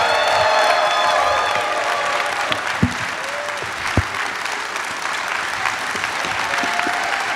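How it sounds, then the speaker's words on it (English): A Q&A audience keeps clapping and cheering for Walter Koenig, with vocal cheers and whoops early on, a couple of sharp knocks, then steady sustained applause to the end. "Let's keep that applause going"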